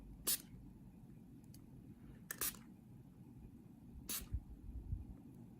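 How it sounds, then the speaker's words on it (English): A spray bottle spritzes alcohol ink onto a card in three short, sharp hissing bursts spaced a second or two apart, over a quiet room background with faint low handling noise. "I'm going to give it another spritz"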